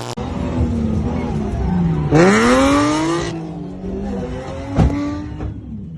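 A drift car at an Alberta drift event revs hard with rising and falling engine whines, a squealing sweep and a sharp impact near the end, loud and close.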